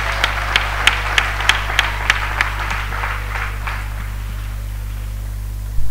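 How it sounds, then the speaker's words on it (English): Congregation at a church gathering claps in a slow, steady rhythm, about a dozen loud synchronized claps that thin out into scattered softer ones over a constant low hum. "Clap offering to Jesus."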